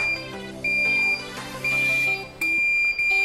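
An automatic IoT water tank controller's buzzer sounds a loud, shrill electronic alarm in repeated on-off bursts, close and uninterrupted by talk.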